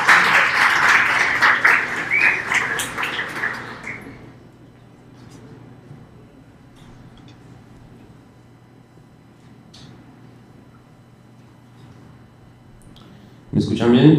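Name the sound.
audience applause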